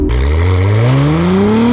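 An Acura NSX accelerates hard from a standstill. Its loud engine note climbs steadily in pitch without a break, close and dominant, with no voices.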